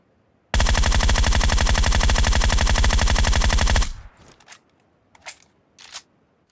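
Groza assault rifle in PUBG Mobile fires one loud, sustained automatic burst of about three seconds with rapid, even shots, then a few faint clicks and soft handling noises follow.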